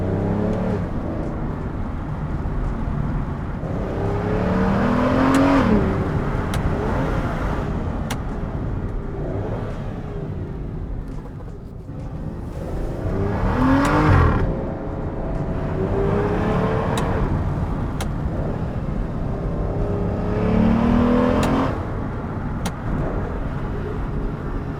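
An Aston Martin DB9 cruises along a scenic road, its engine humming steadily from inside the cabin with repeated swells of revving as it accelerates through gears, road and wind noise constant underneath.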